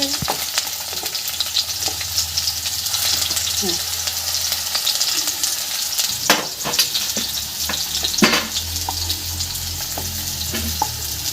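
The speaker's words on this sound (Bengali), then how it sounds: "আলুগুলো দেখুন লাল লাল ভাজা হয়ে গেছে" Potatoes frying in oil in a pan, a steady loud sizzle with occasional stirring scrapes and clatters, close up, continuing throughout.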